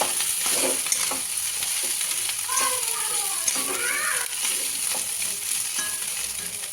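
Leftover fried rice with coriander leaves gets stirred in a hot pan, a spatula scraping and turning it over a steady sizzle, close up, with a faint whistle-like tone briefly in the middle.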